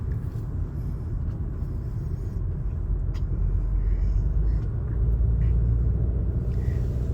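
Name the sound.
2023 Toyota RAV4 driving onto the highway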